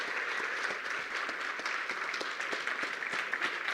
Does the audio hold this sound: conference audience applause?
yes